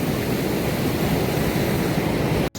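A Himalayan mountain river rushes loudly and steadily at the Madhyamaheshwar Ganga confluence near Lower Banthauli on the Madhyamaheshwar trek, a dense close roar with no voices.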